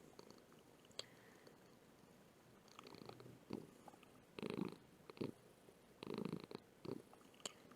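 A soft, low purr rumbles steadily and quietly up close, broken by a few faint rustles and brief sniffing bursts.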